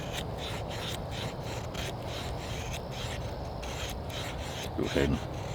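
A Jeo Tec No 9 bushcraft knife carves wood in steady, continuous rasping and scraping strokes, close and fairly quiet, with a slightly louder scrape near the end and no talking.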